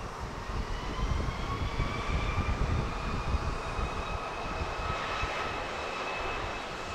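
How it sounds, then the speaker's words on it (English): A Boeing 737 Max takes off on runway 31 right at Dallas Love Field, with a loud, sustained jet engine roar and a rising whine heard from the airport perimeter. "It's 737 Max getting ready to take off here on runway"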